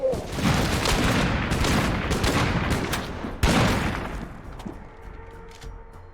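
Video game sniper tower gunfire in a tower-defense match, a dense rapid fusillade of shots and impacts lasting several seconds, a sharp loud burst midway, then tapering into sparse faint pops.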